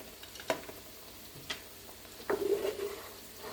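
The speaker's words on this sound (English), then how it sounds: "now let's get this shrimp in" Shrimp hits a hot pan for risotto with a brief sizzling burst after a few scattered clinks and taps of a utensil, close and fairly quiet, with no talking.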